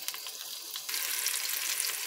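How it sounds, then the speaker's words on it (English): Onion frying in a pan with a steady, close sizzle that grows louder and denser partway through, with no talking. "We'll just fry a little bit the onion."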